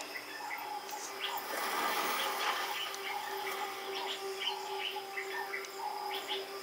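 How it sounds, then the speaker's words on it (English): Red-billed oxpeckers calling on a TV wildlife documentary set in Luangwa, where the birds ride on a giraffe: a steady scatter of thin chirps and twitters over a continuous insect-like hiss, moderately faint. "Everywhere he goes, he's accompanied by a small crew of red-billed oxpeckers."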